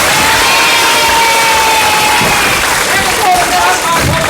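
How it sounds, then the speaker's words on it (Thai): A studio audience at a Thai television game show applauds and cheers for the winner, a loud, sustained crowd roar that holds steady throughout, with voices mixed into the noise. "ขอเสียงปรบมือสำหรับคุณจรุณเอง"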